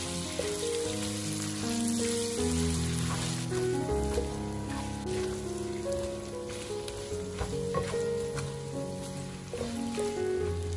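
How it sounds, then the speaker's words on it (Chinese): Pork belly sizzles in caramelized sugar in a hot wok, stirred quickly with a spatula, a loud continuous frying hiss with scraping strokes, mixed with background music. "接下来快速的把五花肉倒下来，用铲子快速的翻炒"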